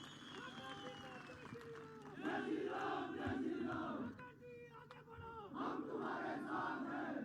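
A political rally crowd in Saluni, Chamba district, cheers and applauds in sustained loud swells that dip briefly and then surge again, with voices and shouting mixed through the roar.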